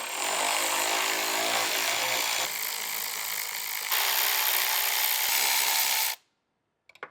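Loud, continuous whir of a power tool driving out 10mm bumper bracket bolts on a 2024 Toyota Tacoma during a front bumper install, running steadily for about six seconds with slight shifts in pitch before stopping abruptly.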